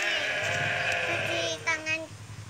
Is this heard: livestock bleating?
yes